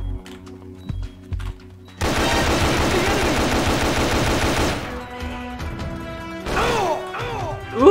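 Sustained automatic gunfire in a video game, a loud continuous rattle lasting several seconds, preceded by scattered shots and followed by quieter game sounds and a few whooshing effects, with no talk.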